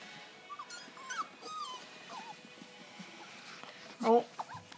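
Puppies whimper and yip in short high cries scattered through the clip, with a louder burst near the end, while a person talks to them nearby.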